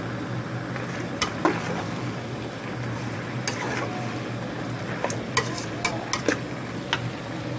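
Chicken stir-fried in a pot for a sour bamboo shoot curry makes a dense, continuous sizzle. A spatula clacks and scrapes against the metal again and again as the pieces are tossed, and no voices are heard.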